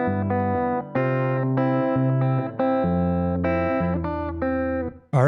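Sustained guitar chords ring through the bridge of a song, changing every half second or so in a slow, steady progression, with a short wavering tone at the very end.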